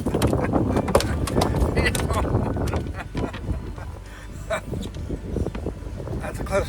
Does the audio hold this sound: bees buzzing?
no